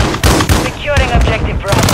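Loud, dense gunfire from a Call of Duty objective-capture match, a continuous rattle of automatic bursts with sharp cracks over a busy game mix, with voice callouts from the game layered in.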